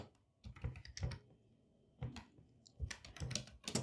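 Faint, close computer keyboard typing as a chat message is entered, uneven clusters of soft key clicks with short pauses and no voices.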